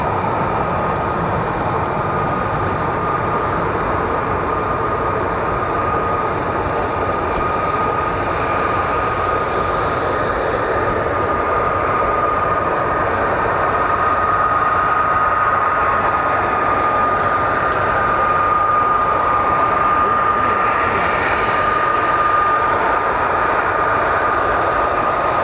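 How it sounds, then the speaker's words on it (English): US Air Force F-15 and F-35 fighter jets at RAF Lakenheath roar continuously at a distance, a broad sustained engine wash that swells slightly toward the end, with faint talk underneath. "We've got aircraft coming down from the catwalk and the warrior walk."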